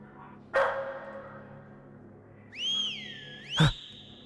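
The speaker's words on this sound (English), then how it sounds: "Press space to bark. I'm the dog! Woof! Bark back!" A dog in the horror video game Lost In Vivo gives a single sharp bark, followed by rising and falling whistle-like tones and another brief loud bark, all fairly close and alone.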